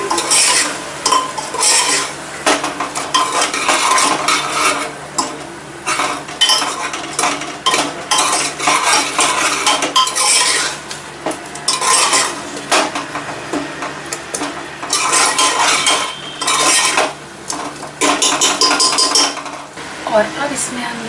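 Garlic onion pulao ingredients are stirred and roasted in a pan, a near, continuous busy scraping and clatter of a spoon against metal over a light sizzle, with brief pauses.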